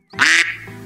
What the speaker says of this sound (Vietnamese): Đây là con gì? Con vịt.